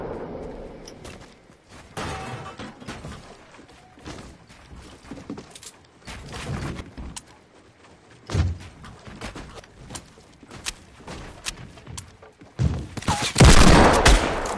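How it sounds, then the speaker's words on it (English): Gunfire bursts in a Fortnite battle royale match ring out in scattered volleys, with a louder, dense burst near the end and quiet game ambience between shots. "Shots."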